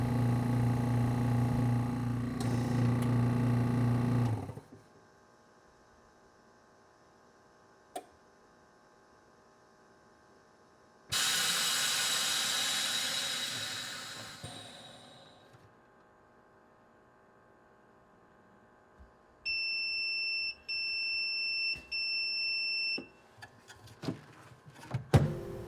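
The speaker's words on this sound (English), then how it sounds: "As this thing's evacuating the chamber, you can actually see the water bubbling" A VacMaster VP112S chamber vacuum sealer runs its pump for several seconds as it evacuates the chamber with water inside, a steady mains-like hum that cuts out, followed by a hissing rush of air, then a short electronic tone and clicks.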